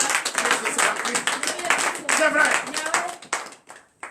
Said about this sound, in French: Oui, donnez l'acclamation à Jésus.